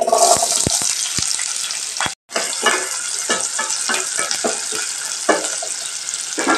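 Onions and green chillies hit hot oil in a pan for a vegetable kurma, sizzling loudly and steadily, with a brief break and scattered stirring clicks while the frying continues up close.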